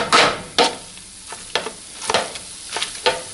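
Cooked chickpeas being mashed in a pan for channa masala: a handful of soft, wet squelching presses, repeated at an uneven rhythm, close and moderately loud, with a light sizzle between them.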